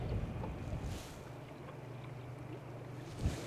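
Motorized kayak cruising slowly at low throttle on open water, a steady low motor drone mixed with water wash and wind buffeting, fairly quiet and continuous.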